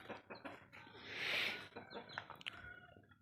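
Large Aseel roosters and chickens being fed grain in the morning, with soft clucks and calls rising and falling against a quiet farmyard background, fairly faint and without talk.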